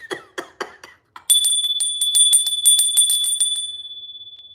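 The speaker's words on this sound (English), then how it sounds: "let me ring the bell and clear these cards" A bell is rung to clear tarot cards during a reading: a few quick metallic strikes, then a steady ringing tremolo that holds and slowly fades, close and alone with no talk.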